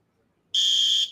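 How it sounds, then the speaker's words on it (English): An outdoor fire alarm near a craft fair blares a loud, steady high-pitched electronic tone that starts abruptly after a quiet moment and holds for about half a second before trailing off. "I don't think I've ever seen a fire alarm outside when there has been no fire"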